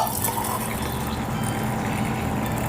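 Hot water poured into a can of condensed milk, a steady continuous splashing gush that stays even and fairly close throughout, with no talk.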